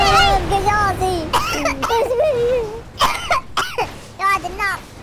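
A boy in a GTA V film coughs from fire smoke in repeated harsh bursts between strained, whimpering speech, close and loud, with short talking and coughing fits trading off throughout.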